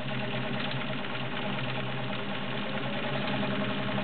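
A heavy-duty Kenmore 1750 sewing machine runs steadily, stitching fabric on a long, wide stitch with an even mechanical whir and hum that carries without a break from start to finish.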